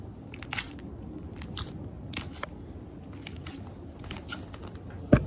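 Crunchy slime is squished and pressed, giving a series of sharp, close crackling crunches in irregular bursts, with one louder pop near the end.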